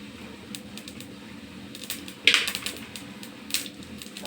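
Mustard seeds splutter and pop in about five spoons of hot cooking oil, a close run of sharp, irregular crackles and ticks with a few louder bursts, no voices.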